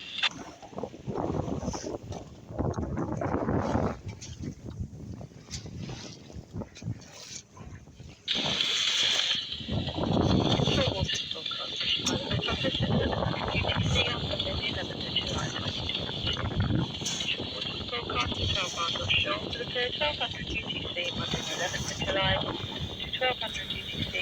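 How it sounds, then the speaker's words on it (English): A small cruising boat crosses a choppy sea on a big rolling swell, with wind roaring over the microphone, water rushing and splashing against the hull, and a steady engine drone, while someone talks over it. "It's quite choppy out here actually, not in a bad way, it's just a big rolling swell"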